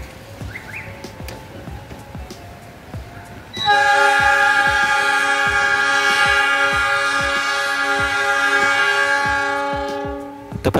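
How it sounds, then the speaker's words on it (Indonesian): At Bandung Station, the Malabar Express passenger train departs: a quieter stretch of rumbling and rhythmic clacking, then its horn blares loudly and steadily for several seconds, fading slightly at the end. "keberangkatan kereta api Malabar Express"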